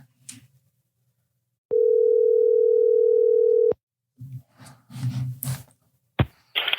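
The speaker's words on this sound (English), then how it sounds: "We actually just got a call" A steady telephone ring tone for an incoming call sounds alone for about two seconds, clear and loud, with some rustling and handling noises before and after.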